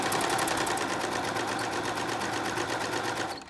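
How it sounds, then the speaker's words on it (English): A sewing machine stitches fabric from the right side of a garment in a steady, continuous rapid whir with a fast even stitching rhythm, loud and close, running alone until it stops at the end. "So I'm sewing from the right side."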